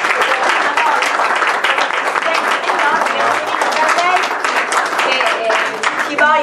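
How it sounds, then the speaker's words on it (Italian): A crowd applauds steadily and loudly at the opening of an exhibition, dense clapping filling the whole stretch without pause. "vi chiedo un applauso"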